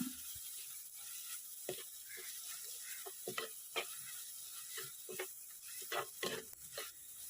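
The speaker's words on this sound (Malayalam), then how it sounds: "മുളക് പൊടിയും അര ടീസ്പൂൺ മഞ്ഞൾപ്പൊടിയും ഒരു മുക്കാൽ ടീസ്പൂൺ മല്ലിപ്പൊടി കൂടി ചേർത്ത് നന്നായി മൂപ്പിച്ചെടുക്കാം" Chili, turmeric and coriander powders frying in oil for a Kerala-style squid roast make a soft, quiet sizzle, with irregular light stirring scrapes and taps that grow busier toward the end.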